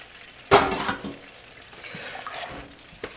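Butter melting into apple juice in a cast iron pan: one sharp clink of a utensil against the pan, then a soft, steady low sizzle with a light tap near the end.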